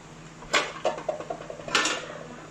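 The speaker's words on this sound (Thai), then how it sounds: "ปิดฝาไว้แป๊บนึงครับฝาเล็ก" A small metal lid is set down onto a cooking pot of squid in black ink, giving a few clattering knocks near the start and another sharp clank near the end, with faint scraping between.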